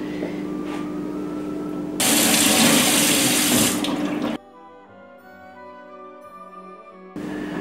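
Rinse water splashes and rushes as hair is swished in it with seaweed after henna dyeing, a steady close wash that swells louder for a couple of seconds, then drops to a quiet hum before the flow returns.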